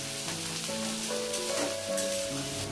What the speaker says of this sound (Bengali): প্রথমে আমি পেঁয়াজগুলোকে ভালো করে ভেজে নেব।